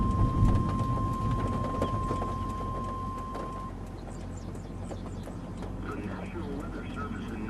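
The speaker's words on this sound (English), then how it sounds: "The rain is behind us." Steady rain falls during a tornado-producing storm, a dense hiss with low rumbling thunder underneath, continuous throughout and fairly close, with faint background noise.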